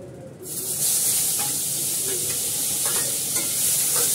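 Onions drop into hot oil in a pan and burst into loud, steady sizzling that jumps up after a quiet opening and holds, with faint stirring scrapes and no speech.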